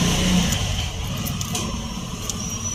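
A Toyota Corolla's exhaust during a tune-up, its engine idling with a steady low rumble and faint revving, heard up close and continuous for the whole stretch.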